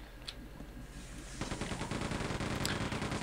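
Rapid automatic gunfire from a weapon in the video game Quake 2 breaks out after a quieter stretch, a dense, loud stream of shots continuing to the end over game background noise.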